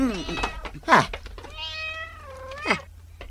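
A cat meows several times in a home setting, with harmonic cries rising and falling, one long drawn-out meow in the middle, while people talk nearby.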